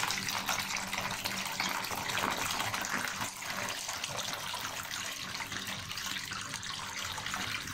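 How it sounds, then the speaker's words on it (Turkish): Brining water is poured off a jar of black olives as the fifth and final rinse, a continuous close gush and splash of liquid running steadily throughout with no speech. "Şimdi şu şekilde 5. son suyumuzu da döküyoruz artık."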